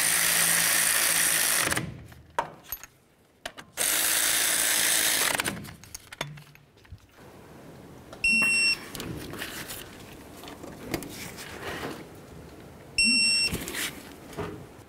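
Mounting bolts on a 1998-2011 Ford Ranger front brake caliper bracket are run in and tightened. Close power-tool whirs come in loud bursts, followed by ratcheting clicks and two short electronic beeps.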